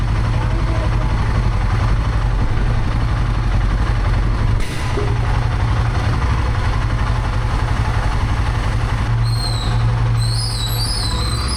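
A motorcycle engine runs steadily at idle on a roadside in India, a constant low throbbing rumble that stays loud and close throughout, briefly dipping once.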